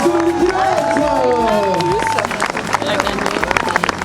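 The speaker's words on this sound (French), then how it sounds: "Applaudissements s'il vous plaît pour ce podium spectaculaire" Crowd applause and cheering for a running race podium at an outdoor prize ceremony in a zoo park, clapping under voices and an announcer, fairly loud and continuous.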